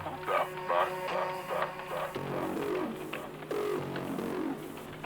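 A processed vocal-like texture with cooing, warbling tones drifts over a steady musical background, rising and falling in short phrases at moderate volume.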